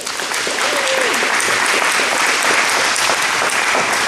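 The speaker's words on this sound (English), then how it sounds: "Let's give Bill a round of applause" Audience applause at a community gathering, loud and sustained, dense clapping filling the room from start to finish, with a brief voice faintly audible beneath it.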